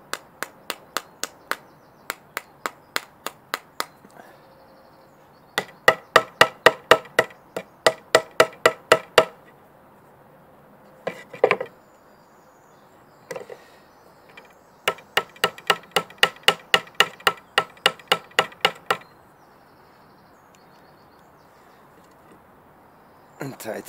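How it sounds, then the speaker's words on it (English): Light hammer taps while fixing the roots of a carpinus bonsai in broom form, coming in rapid regular runs of sharp, close ticks with pauses and scattered fiddling sounds between the runs. "And then hammer a little."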